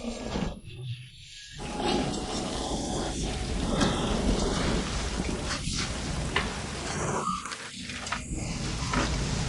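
Heavy rain pours in a dense, continuous hiss with a few deeper rumbling swells, loud and close throughout, no voices over it.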